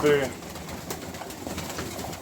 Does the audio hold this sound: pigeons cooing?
yes